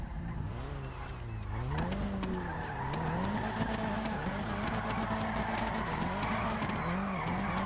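A BMW M3 drifting at a drift session, its engine revving and wavering steadily while tires squeal and skid continuously, loud and close throughout.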